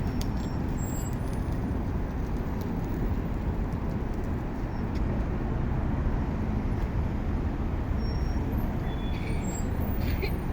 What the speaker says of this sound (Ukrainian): який поток машин